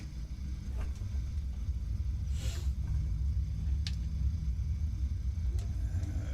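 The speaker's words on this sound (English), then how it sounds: "Starting engine 2" An airliner's number 2 engine spooling up in a flight simulator, a steady low rumbling drone holding level throughout with a few faint clicks on top and no voices.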